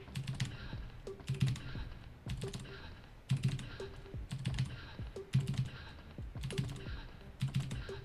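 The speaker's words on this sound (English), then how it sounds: "So you can listen to the keyboard here if you can hear." Computer keyboard typing in quick bursts of clacking keystrokes, separated by short pauses, close and clear with no voices.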